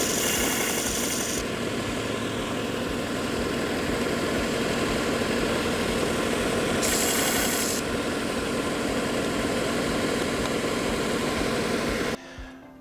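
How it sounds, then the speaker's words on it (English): A power sander grinds down a wooden model bridge part to fit, a steady loud motor whir running unbroken for about twelve seconds with brief brighter hiss bursts, then cutting off abruptly near the end. "So I'm simply gonna take this to the sander in the back and just sand it down till it fits in."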